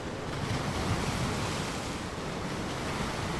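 Surf washes continuously onto a British coast where grey seals breed, a dense, steady roar of breaking waves mixed with gusting wind buffeting the microphone.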